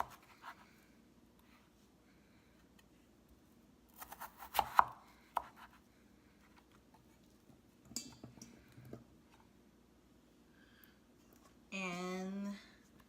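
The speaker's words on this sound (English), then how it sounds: "You cut this one in half, and then I will cut this one in quarters." A knife cuts through potatoes on a board, making a few sharp, sparse chopping thuds separated by long quiet gaps, heard close and fairly faint.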